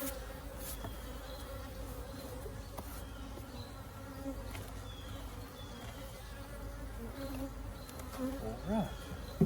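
Honey bees from a packed multi-box hive buzz steadily throughout an open hive inspection, a dense continuous drone with a few louder passes near the end.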